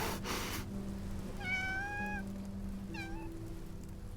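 A cat in the video game Love and Deepspace gives two clear, high meows, the first longer and drawn out, the second shorter, over a quiet background hum.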